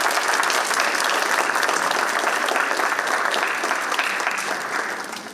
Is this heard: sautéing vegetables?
no